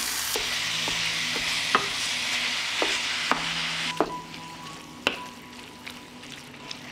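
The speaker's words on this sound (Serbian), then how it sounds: "Mast se istopila i sada ću propržiti mleveno meso." Minced pork frying in melted lard in a pan gives a steady, close sizzle, with sharp spatula clicks and taps at irregular intervals throughout.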